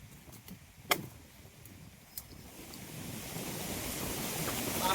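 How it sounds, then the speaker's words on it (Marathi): Strong wind gusts through trees and plants in the Konkan countryside during unseasonal rain, a steady rushing roar that swells louder toward the end, with a couple of faint knocks early on. "बापरे, काय वारा सुटलाय बघा"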